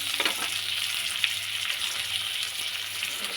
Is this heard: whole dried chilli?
yes